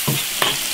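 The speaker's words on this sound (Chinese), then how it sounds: "把那所有调料的香味给它炒出来" Sichuan peppercorns, chopped star anise and a little chili paste stir-fried in an iron wok, giving two brief scraping sizzles close up against a steady frying hiss.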